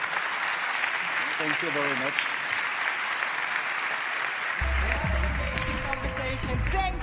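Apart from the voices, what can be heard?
audience applause for the panel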